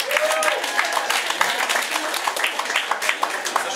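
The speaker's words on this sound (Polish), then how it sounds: "brawa, brawa" Audience applause at a youth singing-studio concert, a dense patter of clapping hands with a voice heard over it.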